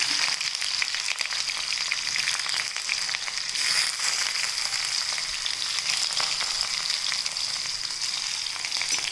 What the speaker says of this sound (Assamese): মেথি গুটিখিনি ফুটিলে ফুটাৰ লগে লগে মই ইয়াত দি দিম পিঁয়াজ